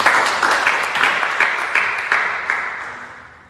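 A church congregation claps together during a service, a dense, close burst of applause that gradually fades away over a few seconds.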